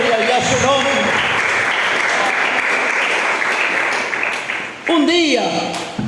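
A church congregation applauds hard for several seconds, the dense clapping fading slightly as voices rise over it near the end.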